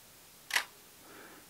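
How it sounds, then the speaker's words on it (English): A single crisp mechanical shutter release from a Minolta X300 35mm SLR film camera fires after its self-timer countdown, close and brief in a quiet room, followed by a faint mechanical whir. "And then releasing the shutter."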